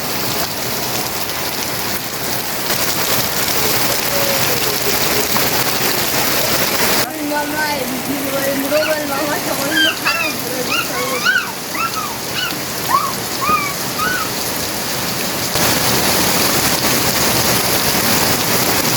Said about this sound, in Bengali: এই যে বৃষ্টি শুরু হয়েছে